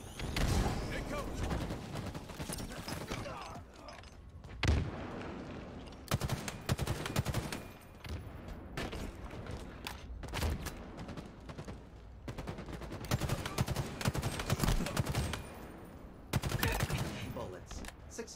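Video game gunfire comes in repeated rapid bursts and volleys with brief pauses in between, loud and close. A voice speaks at times over the shooting.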